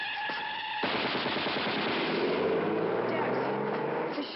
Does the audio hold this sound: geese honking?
no